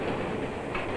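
A mail train running on rails, with a steady, loud rumble and wash of wheel noise throughout, close by and continuous, with no voices.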